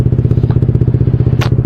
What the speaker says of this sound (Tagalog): bago ka muna gumamit ng motor, so kailangan mo munang painitin daw ang makina